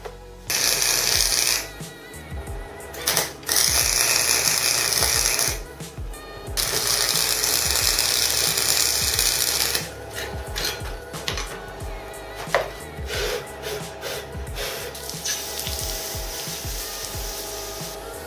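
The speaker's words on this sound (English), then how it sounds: "Forgot I was welding something connecting to wood" Metal joined to wood is welded while making a guitar-shaped sword, giving loud, harsh, crackling buzz in several bursts separated by short pauses, followed by quieter crackle and scraping.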